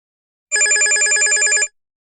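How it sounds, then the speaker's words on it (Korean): A telephone bell rings alone for just over a second, a bright, rapid trilling burst that starts and stops abruptly, loud and close. "전화벨 소리는 참 생경했습니다."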